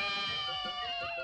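Cartoon cats squabbling over festive clothes, a sustained tonal meowing wail with wavering pitch, loud and close throughout.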